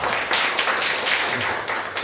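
Audience applause at a youth political lecture event in Jeju for lawmaker Mo Kyung-jong, a steady dense wash of clapping from a roomful of people, continuous and fairly loud throughout.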